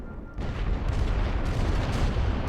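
Artillery fire in The Great War: Western Front, a World War I video game, rolls as a dense, continuous rumble of distant booms that swell abruptly after a brief quieter moment and stay heavy throughout.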